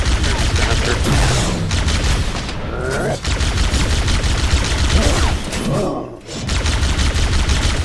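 Rapid video-game gunfire in Halo CE as a player shoots at a Hunter, some rounds glancing off its big metal arm; dense, loud bursts run almost continuously, dipping briefly twice, with a voice talking over the shooting.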